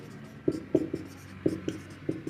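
Chalk or marker strokes on a board during a classroom lesson: quick, close scratches and taps in short irregular bursts, faint but distinct, with no talking.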